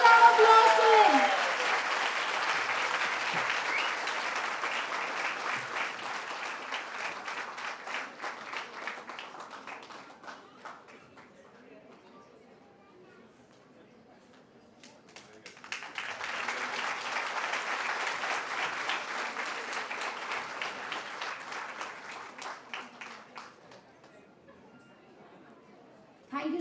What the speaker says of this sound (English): Please give a huge round of applause to him.